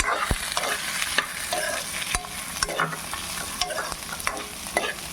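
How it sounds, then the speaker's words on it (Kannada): Chana dal and grated coconut fry in a pan until light brown, a steady close sizzle broken by frequent sharp scraping and clinking of a spoon stirring the mixture. "ನೀಟಾಗಿ ಬ್ರೌನ್ ಕಲರ್ ಬರೋವರೆಗೂ ಫ್ರೈ ಮಾಡ್ಕೋಬೇಕು, ಲೈಟ್ ಬ್ರೌನ್ ಬರೋವರೆಗೂ."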